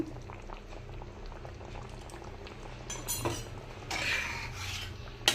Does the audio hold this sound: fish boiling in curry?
yes